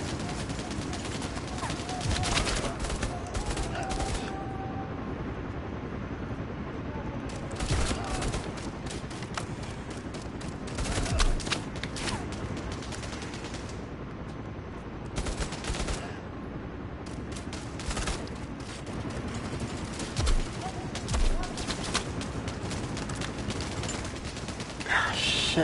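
Gunfire rattles in the PSVR shooter Bravo Team, with scattered shots and bursts over continuous game noise and occasional talk, moderately loud throughout.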